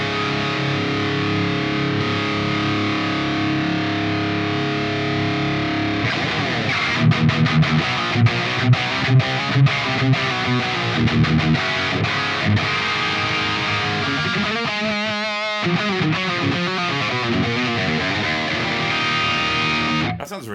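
An electric guitar played through the ML Sound Labs AMPED amp sim with a drive boost gives a heavily distorted, loud tone, first as sustained chords, then choppy palm-muted riffs and a brief pause before ringing chords return.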